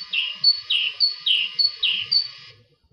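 A rural bird sings its lower-pitched song, five quick repeated phrases in a steady rhythm, clear and close with no other sound.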